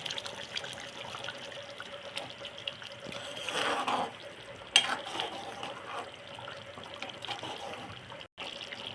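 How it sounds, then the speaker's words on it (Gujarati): Manchurian gravy bubbles in a pan: a close, continuous watery trickle and burble with a brief swell midway and one sharp knock, no voices. "આ તમને પાણી બડબડ થાય એમ બોલે"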